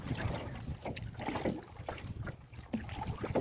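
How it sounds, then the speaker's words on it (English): A paddle works a small boat across a lake with soft, irregular splashes and water swirls, close up under gusty wind buffeting the microphone. "I'm going to try and start paddling."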